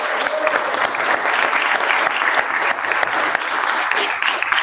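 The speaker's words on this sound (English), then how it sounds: "Let's give them a round of applause for that" Church audience at a scripture memorization event breaking into loud, dense applause that holds steady throughout, close and continuous, with no voices rising above it.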